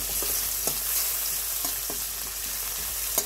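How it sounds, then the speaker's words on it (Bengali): Onions, ginger and garlic paste frying in hot oil in a pan, a steady close sizzle with occasional light clinks of stirring, no talk. "ভেজে তুলে রাখবো আমরা।"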